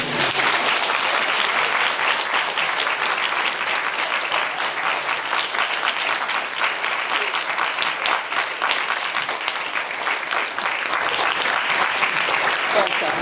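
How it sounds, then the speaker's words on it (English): Sustained applause from an audience at a Durham Union Q&A event with Mel B, dense, steady and loud clapping that runs evenly throughout. "Can we have a round of applause for Mel B?"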